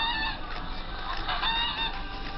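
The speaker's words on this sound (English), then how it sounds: "North Andover, Massachusetts, Michael Smolak keeps turkeys, geese, and roosters." Roosters crowing repeatedly on a farm in North Andover, Massachusetts, where turkeys and geese are also kept, with clucking fowl close by and steady outdoor background noise.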